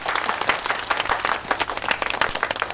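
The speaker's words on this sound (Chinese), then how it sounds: "鼓掌。" Office staff at a bank meeting clap to welcome their president back, a lively round of applause with distinct, uneven hand claps close by, filling the room for a few seconds.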